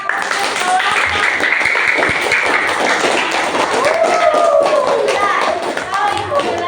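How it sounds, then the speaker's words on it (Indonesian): A primary school class applauds a student group, dense clapping mixed with children's chatter and shouts, loud and steady throughout. "Oke, beri tepuk tangan untuk kelompok."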